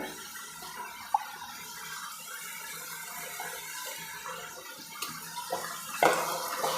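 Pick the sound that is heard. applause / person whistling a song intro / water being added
water being added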